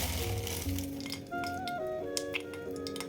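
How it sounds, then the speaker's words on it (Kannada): Steady sizzling of hot oil with mustard seeds giving scattered sharp little pops and crackles throughout, close and continuous, no talking. "ಸಾಸಿವೆ ಸಿಡಿತಾ ಇದೆ."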